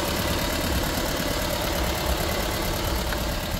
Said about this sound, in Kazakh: Моторы сықылдап істеп тұр.